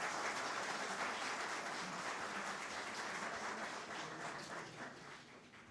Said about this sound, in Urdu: میں چاہتا ہوں پرزور تالیاں ہمارے مولانا بشیر فاروقی صاحب کی۔